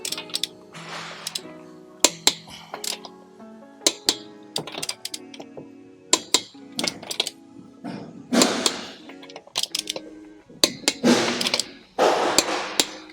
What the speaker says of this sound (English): Final step is to torque the wheels up.